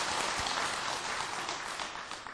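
Congregation at a Buddhist temple Sunday dharma talk claps together, a dense, sustained burst of applause that fills the room and gradually tapers slightly toward the end.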